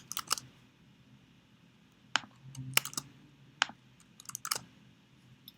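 Close, fairly quiet computer keyboard typing in scattered short bursts of crisp clicks with pauses between them, while a program is being entered.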